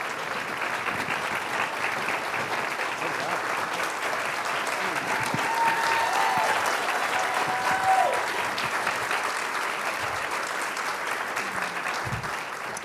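Steady, dense applause from a large evening audience at a history panel event on Black Power and Black Lives Matter, sustained and even throughout as the panelists come onto the stage, with a few faint whoops mixed in.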